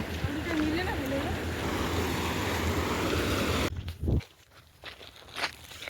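Sea waves wash and roar steadily for several seconds beside a shoreline, with wind buffeting the microphone, then cut off abruptly, leaving faint thuds and brief voices.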